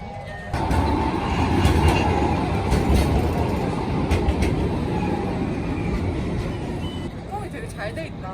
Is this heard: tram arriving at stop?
yes